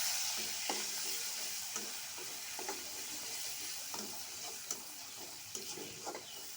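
Onion paste fries in oil for a shing fish curry with a steady, bright hiss, while sharp spoon taps against the pan come every second or so, close by and without any voices.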